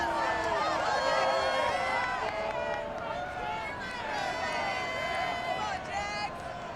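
Stadium crowd in a Madden 22 football game at TIAA Bank Field in Jacksonville, a steady dense roar of cheering and shouting voices filling the whole stretch with no pauses.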